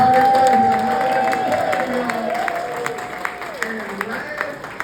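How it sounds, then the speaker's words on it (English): An audience at a budget town hall claps, giving a round of applause of moderate strength that thins out toward the end, while a voice speaks over it. "let's give a round of applause for the spirit of conversation"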